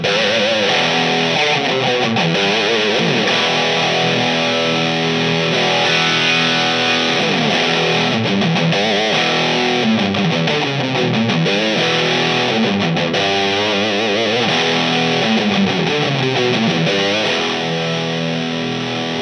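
Electric guitar driven through a KHDK Kirk Hammett distortion pedal, playing heavily saturated, sustained riffs and chords with a thick, loud, compressed tone that holds steady with no talking.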